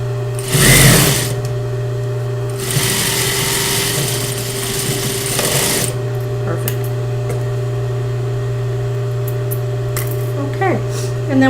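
A domestic sewing machine runs in two close, loud bursts of steady whirring stitching, with a constant motor hum throughout and small clicks of thread handling after; no one speaks.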